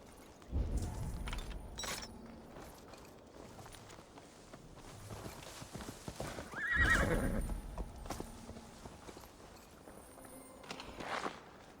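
Hooves clip-clop steadily on hard ground, and a horse whinnies loudly partway through, then the footsteps carry on, in the video game Assassin's Creed Valhalla.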